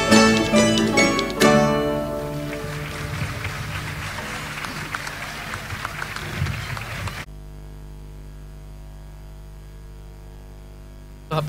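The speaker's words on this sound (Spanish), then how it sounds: "Los aplausos." Audience at an outdoor folklore festival breaking into applause, loud clapping at first that thins and fades over several seconds before giving way to a low electrical hum.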